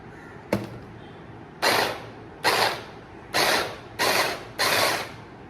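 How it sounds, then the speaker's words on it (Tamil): A kitchen mixer grinder chopping onions runs in five short, loud pulsed bursts of whirring noise, each under a second, preceded by a single sharp click. "வெங்காயம்லாம் அரைச்சி முடிச்சாச்சு."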